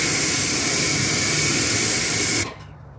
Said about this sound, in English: I'll wash this wash mitt out.